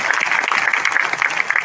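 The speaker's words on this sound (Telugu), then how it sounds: "గట్టిగా చప్పట్లు కొట్టాలి." A church congregation at a parish gathering in Guntur claps loudly together, a steady, fast patter of many hands that fills the short moment.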